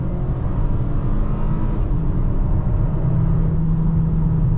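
A 2022 Volvo XC40 T5 R-Design with a Polestar upgrade accelerating hard from about 25 mph, heard from inside as a loud, steady engine drone and road rumble, with the engine note rising toward the end.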